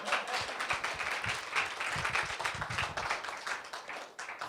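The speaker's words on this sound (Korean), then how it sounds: "박수 치시면 끝까지 치시고" An audience at a church retreat lecture applauds, with dense, lively clapping that holds steady throughout and tapers slightly at the end.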